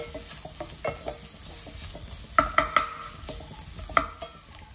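Small shallots frying in a pan, with soft sizzling and a few sharp stirring scrapes and clicks of a spatula against the pan, close by and fairly quiet.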